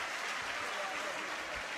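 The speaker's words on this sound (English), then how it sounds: "give Montserrat a very big hand of applause" Audience applause after a call to honour a contestant named Montserrat at a results announcement, a steady wash of many hands clapping throughout, fairly loud and continuous with no break.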